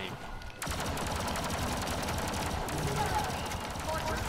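Rapid blaster gunfire from a gun in a Star Wars video game, a dense, loud stream of shots starting abruptly after a brief quiet moment and continuing steadily to the end.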